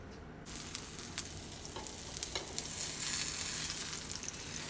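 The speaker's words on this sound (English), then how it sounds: "I add my eggplants to some vegetable oil" Eggplants fry in vegetable oil in a pan, a steady close sizzle and crackle that starts abruptly and holds throughout with a few sharp pops.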